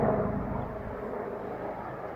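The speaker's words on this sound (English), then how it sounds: "and there's another helicopter." A low, rumbling helicopter drone passes overhead, steady and moderately loud, fading slightly over the short stretch with no voices.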